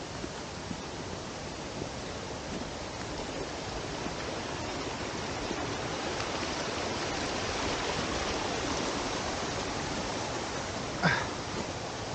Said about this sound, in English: Oh, there's some waterfalls down there.